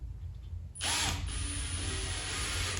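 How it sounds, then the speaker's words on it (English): A short quiet lead-in, then a power drill whirs loudly and steadily as a screw is driven into wood, holding its pitch to the end. "So I'm just going to drill it into this piece of wood here."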